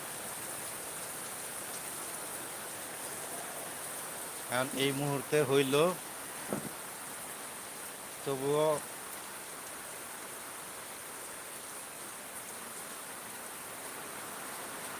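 A steady, even hiss of rain falling over a rural area after a long drought fills the whole stretch, with someone speaking briefly twice over it.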